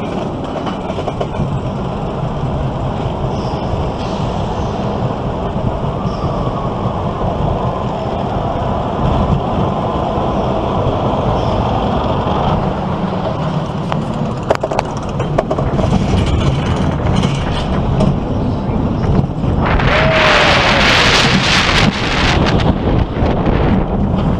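A roller coaster at Canada's Wonderland rumbles and clatters along its track, with steady loud wind rush over the microphone and a louder surge of rushing air and roar near the end.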